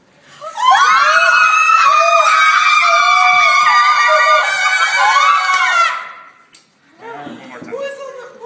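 A crowd screams loudly and continuously for about six seconds, then after a brief gap a shorter, rougher burst of shrieks and laughter follows, all coming from a played recording.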